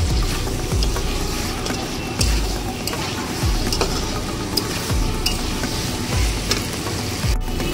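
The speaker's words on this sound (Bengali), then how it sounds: "একটু জল, দিয়ে এটাকে হাই ফ্লেমে আরও একটু কষিয়ে নেব 1 মিনিটের মতো।" Masala for a kohlrabi fish curry fries with a little water on high flame, making a loud continuous sizzle broken by regular rhythmic stirring scrapes, close and without voices.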